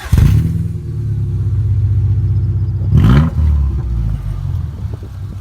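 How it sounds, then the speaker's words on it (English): A Subaru Legacy with its muffler deleted drones loudly and close, holding a raw exhaust note before a sharp rev blip midway, then settling back to a rough idle. "one last little listen to our boys' car"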